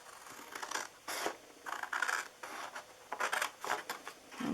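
Scissors snip through paper while a gift box is cut out, a series of short, crisp cuts in quick irregular bursts, close and fairly quiet.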